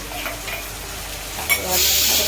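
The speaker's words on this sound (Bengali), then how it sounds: "পেস্টটা দেওয়ার পরে একটু ভালো করে নেড়ে নিতে হবে।" Fried onions with freshly added ginger-garlic paste are stirred in a hot pan, a steady crackling sizzle that swells louder and hissier partway through, with no talking.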